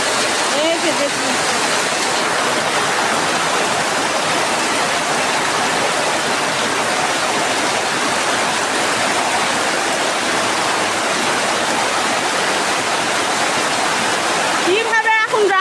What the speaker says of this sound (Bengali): এতটা বৃষ্টির স্রোত দেখুন বন্ধুরা।